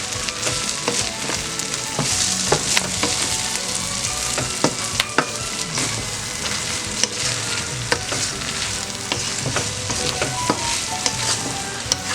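Egg fried rice being stirred and tossed in a hot sizzling pan, a steady frying hiss broken by irregular scraping and clattering of the utensil against the pan, close and without talk.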